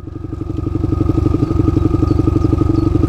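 A YCF pit bike engine runs close and loud with a fast, even throbbing beat that builds slightly as the throttle opens, heard on its own without talk.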